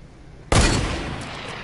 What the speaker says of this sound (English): There's gunshots that way, I'm out.